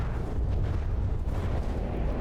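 Missiles striking heavily armored battleship sides in the naval combat game From the Depths: a continuous, loud, low rumbling barrage of impacts and explosions, dense and unbroken, with no voices.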